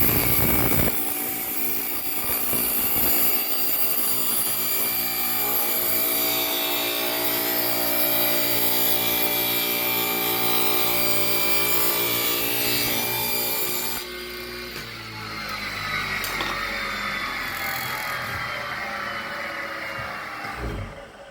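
A table saw fitted with a jig cuts through wood, a loud steady whining drone that holds for most of the clip, then dips and shifts in tone as the cut finishes and the blade runs on.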